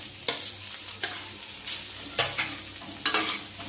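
Potatoes being stirred and mixed in a frying pan while cooking filling for potato dosa, with scraping strokes at irregular intervals over a steady background sizzle, close and fairly loud.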